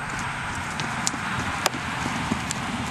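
A Mustang gelding trotting in an arena, hoofbeats faint and steady under a continuous broadband background, with a few sharper isolated knocks standing out.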